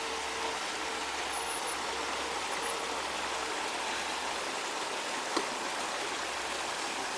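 Water pours steadily over a small waterfall on an outdoor garden railroad layout, a constant broad rushing hiss with no pauses and no voices.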